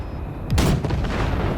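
The guns of the Basilisk, a cargo ship in Cyberpunk 2077, blasting wrecks: a single heavy booming shot after a low rumbling hum, trailing into a rolling echo.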